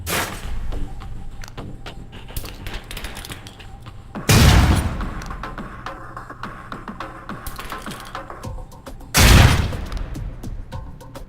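Concussion grenade explosions in the video game Alpha Protocol, two loud heavy booms several seconds apart over a busy layer of clicks and game noise.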